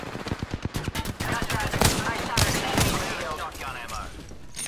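Rapid bursts of automatic gunfire in the Apex Legends battle royale game, a fast rhythmic volley of shots followed by dense, sustained firing and impacts, loud and close with a voice talking faintly underneath.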